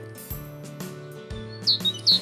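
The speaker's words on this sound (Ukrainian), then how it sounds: "Це гомонять пташечки." Bright, high chirps from a small bird, a couple of short bursts near the end, over a steady musical background.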